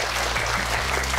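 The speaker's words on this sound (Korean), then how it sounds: "우리 1등, 2등 친구를 위해서 박수 한번 쳐줄게요" Steady applause from children and adults at a Korean children's history quiz show, dense and even clapping at close range throughout, with no talk over it.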